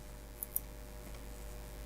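Two quick, faint clicks of a computer mouse during photo retouching work in Photoshop, closely spaced and isolated against a steady low background hum.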